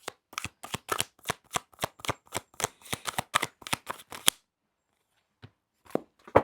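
A deck of tarot cards is shuffled in a fast run of close, crisp riffling snaps for about four seconds, then goes quiet before a few soft flicks as cards are turned over.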